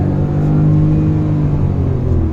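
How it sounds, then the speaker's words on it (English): A Hyundai i20 N Line hot hatchback downshifts, its engine giving a loud, close, steady rumbling rev from inside the cabin with no talk. "Now let me just downshift just for the heck of it."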